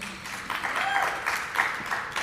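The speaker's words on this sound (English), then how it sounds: "give me an ovation right in the middle of the talk" Scattered audience applause in a lecture hall during a talk, an ovation requested mid-speech; steady broadband clapping of moderate loudness, fairly thin and distant, lasting a couple of seconds.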